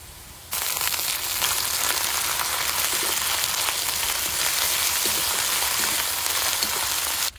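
Onion, garlic and ginger paste frying in hot oil while cooking mustard hilsa fish, a loud steady sizzle that begins abruptly and continues without a break, with no talking.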